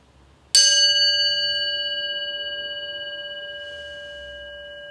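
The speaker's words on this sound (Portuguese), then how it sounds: "só o barulho do sino já te coloca num estado diferente" A meditation bell is struck once, giving a sharp bright onset followed by a pure sustained ringing tone that decays slowly over several seconds in a quiet room.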